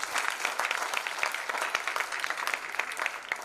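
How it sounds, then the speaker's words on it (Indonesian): An audience at a church talk breaks into applause, a dense run of quick claps that holds steady and fairly close for several seconds without voices over it. "Mari kita beri aplaus."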